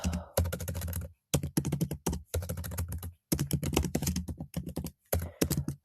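Fast bursts of clicky typing on a computer keyboard while trade notes are written, close and crisp, broken by short pauses between runs of keystrokes.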